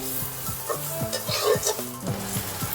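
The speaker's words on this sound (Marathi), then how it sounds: "आपण हळद टाक थोडी ह्याला थोडं परतून घेऊ आता" Turmeric sautéed in a pan for sweet corn upma gives a close, steady sizzle. A spatula stirs and scrapes with brief metallic clanks, and a low background hum runs underneath.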